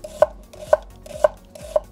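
An onion is thinly sliced into half rings with a knife on a board, four evenly spaced crisp chops in a steady rhythm, close and alone.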